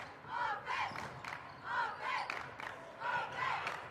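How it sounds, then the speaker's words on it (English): The Morenci cheering section at a high school basketball game chants in rhythmic, repeated crowd cries, heard at a moderate distance with a regular rise-and-fall pattern through the gym. "Morenci with the cheering section over there on the west side of the court."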